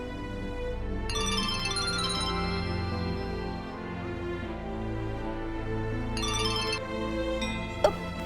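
A phone rings on a repeated call, a melodic ringtone repeating in two bright bursts over a steady sustained tone, moderately loud, with a small clink near the end.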